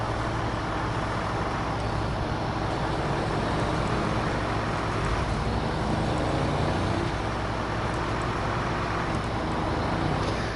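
A heavy off-road truck in the SnowRunner game drones with a steady, loud engine rumble under throttle, a continuous low growl without clear gaps or speech.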